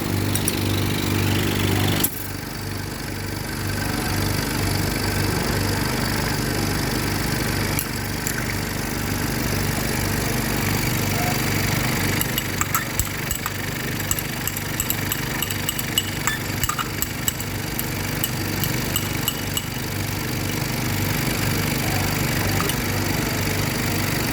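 Vacuum pump running during filtration in an organic chemistry lab, a loud steady motor drone with a constant hum that continues throughout, no talking.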